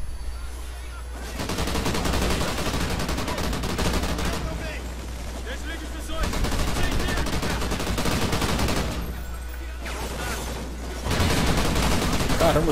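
Sustained automatic gunfire in Call of Duty aimed at a shielded enemy, three long rattling bursts separated by short pauses, close and loud, with a voice faintly underneath.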